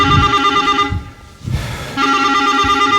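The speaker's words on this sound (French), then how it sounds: "Piotr, il y en a une à toi qui sonne" A telephone rings with a steady electronic tone, loud and close, cutting out briefly in the middle before resuming, with no talk over it.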